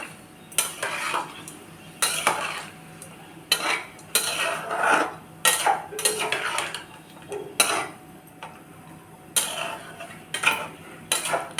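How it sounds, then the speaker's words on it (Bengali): A spoon scrapes and clatters against a pan while chicken is stirred with sour yogurt, giving repeated bursts of metallic knocks in an irregular rhythm, close and fairly loud, with faint talk in the background. "টক দই দেওয়ার পরে কিন্তু ভালো করে মিশিয়ে নাড়াচাড়া করে নেবেন"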